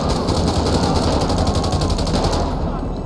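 Rapid automatic gunfire in GTA V during a police-versus-criminals shootout in a favela, with dense, continuous bursts that stop just before the end.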